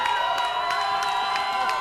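A wrestling crowd at an NWA Wisconsin show cheers and shouts loudly and continuously, a dense roar with whoops rising through it, with voices mixed into the din.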